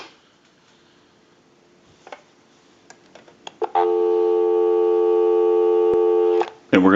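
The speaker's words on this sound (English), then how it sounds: "Go ahead and give you some dial tone." Steady, loud dial tone rings from a Western Electric 2500 desk phone on an outside line, lasting several seconds after a few faint clicks and handling taps, then cutting off sharply.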